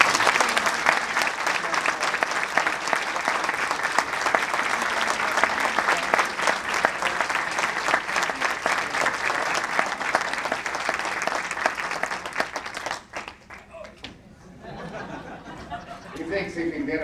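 A 1995 Star Trek convention audience in Jefferson City applauds Mark Lenard with loud, sustained clapping and scattered cheers for about twelve seconds, which then drops away to quieter room noise and a voice.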